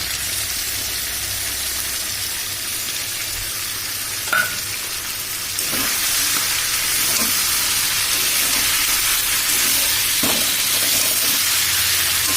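Chicken frying with a ground paste of cumin, chili and coriander, a steady sizzling hiss throughout with occasional soft stirring scrapes, close and fairly loud, no voices.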